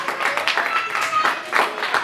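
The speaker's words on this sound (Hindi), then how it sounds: "आए खुदा के लिए जोरदार तालियां बजाएं।" Church congregation clapping for God during a Christian sermon, brisk uneven hand claps heard alongside and beneath speech, close and fairly loud over the short span.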